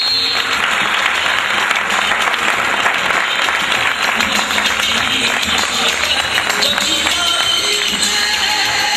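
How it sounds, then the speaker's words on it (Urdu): An audience at a Pakistani youth leadership summit applauds with steady, dense clapping that stays loud and even throughout, with faint crowd murmur mixed underneath. "آپ کی تالیوں کی گونج میں"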